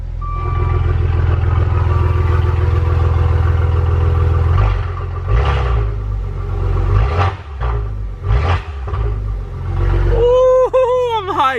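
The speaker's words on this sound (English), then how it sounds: "I'll give you guys a couple of revs" A wrecked 2015 Maserati Ghibli SQ4 in sport mode rumbles at idle, then gives several short, close revs in quick bursts; a beeping tone chirps at the end.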